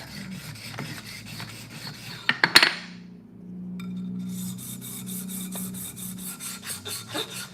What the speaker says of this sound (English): I'm really gonna do some smoothing of this distal taper, get them scratches out of there.